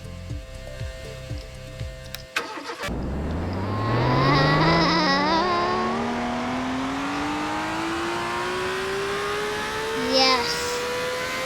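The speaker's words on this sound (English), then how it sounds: "we are going to drive the fastest car in the game" The most expensive car in the Car Tycoon video game racing on ice: clattering and a sharp knock, then an engine that revs up and climbs steadily in pitch as it accelerates, with brief higher whines near the end.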